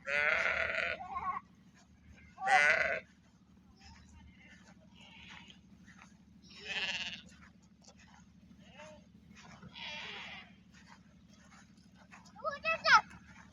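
Sheep at a sheep farm bleat in several separate calls spread across the moment, some close and loud, others fainter, over a low steady hum, with people talking nearby.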